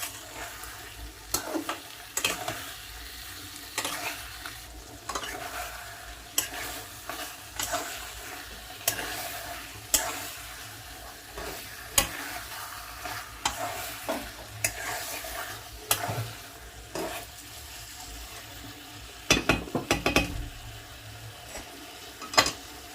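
Ridge gourd and soaked moong dal sautéing in oil in a pan, with steady frying sizzle broken by repeated scraping stirs at irregular intervals, close and moderately loud with no talking.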